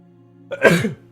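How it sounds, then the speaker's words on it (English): A single close, loud sneeze bursts out after a short quiet stretch, with a steady low hum in the background. "I'm going to sneeze."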